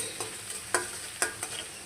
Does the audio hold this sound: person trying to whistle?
no